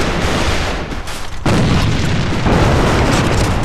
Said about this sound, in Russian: Бросаю гранат!